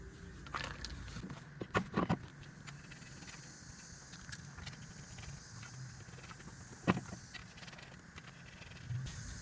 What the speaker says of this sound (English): put the wheel on and get the lug nuts started by hand